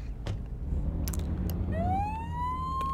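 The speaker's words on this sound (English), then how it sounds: "The sirens, it seems, are the same for all vehicles." A vehicle siren in the Flashing Lights emergency-services game rises in a clear electronic sweep that holds high and steady, heard alone after a few brief clicks.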